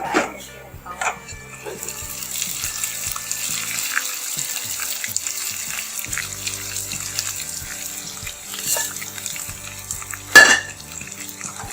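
Fried chicken pieces sizzle and crackle as they go into golden-browned ginger garlic paste in a pan for homemade lemon chicken, with stirring and clattering close up and a brief louder splash near the end.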